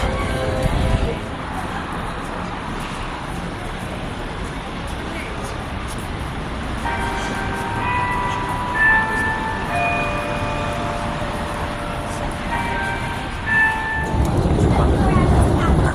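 A Tyne and Wear Metro train runs steadily toward Monument station on the North Tyneside loop, with continuous rumbling rail noise, brief tonal squeals midway, and a louder surge near the end.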